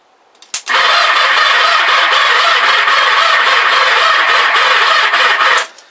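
A Kawasaki GPZ500S motorcycle engine cranks on the starter in one loud, steady, continuous burst of about five seconds, close up and with no voices, stopping abruptly at the end.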